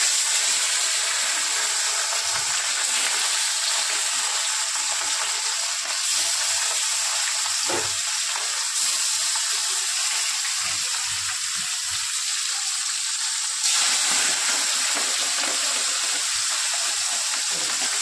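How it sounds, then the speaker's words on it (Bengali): Fish fries in leftover oil in a pan, giving a dense, continuous sizzle and crackle throughout, fairly loud and close, with occasional faint clinks in the background. "ওর মধ্যেই আমি রান্না করে নিচ্ছি প্রথমে মাছটা দিয়ে"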